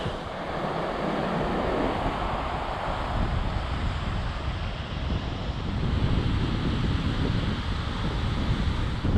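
Waves wash ashore at Trestles beach on the California coast, a steady rushing roar that swells slightly toward the end, mixed with wind rumble on the microphone, no one speaking.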